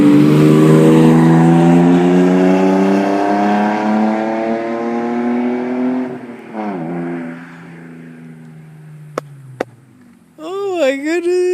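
A straight-piped BMW E36 revs hard in first gear, its loud, raspy exhaust drone close up and steady, the pitch easing down over several seconds before a voice speaks at the end.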